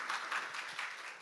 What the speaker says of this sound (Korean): 따뜻한 박수 한번 부탁드리도록 하겠습니다